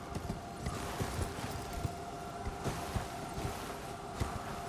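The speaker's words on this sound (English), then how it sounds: "Get off the horse." Horse hooves clip-clopping in Elden Ring, a steady galloping rhythm of soft thuds carried over a constant ambient game background, moderately loud and continuous throughout without speech.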